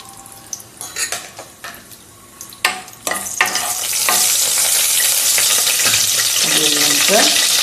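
Whole cinnamon, cloves and cardamom dropped into hot oil in a pan while making malai chicken handi: several clinks and scrapes of a utensil, then a loud, steady sizzle that swells and continues, with faint voice beneath.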